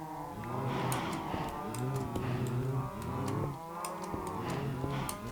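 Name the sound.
cows mooing in a video game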